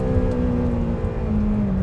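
Lamborghini Temerario prototype on a track, its engine screaming near 10,000 rpm, a loud, sustained high-pitched drone with a steady, slightly wavering tone, close-up from inside the car, with no talking.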